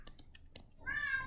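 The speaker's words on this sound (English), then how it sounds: "Okay, that's my cat. She's going nuts." A pet cat, female, lets out a single drawn-out meow near the end, close and fairly loud, following a few soft clicks in an otherwise quiet room.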